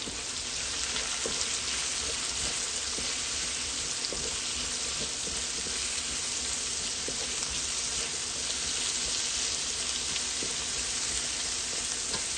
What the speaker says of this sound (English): saute that with onion